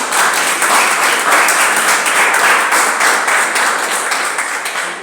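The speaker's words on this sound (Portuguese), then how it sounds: "aplauda o Senhor bem forte, em nome de Jesus." Loud, dense applause fills a Sunday family worship service at an Assembly of God church in Grajaú, a continuous roar of many hands clapping that barely fades before ending.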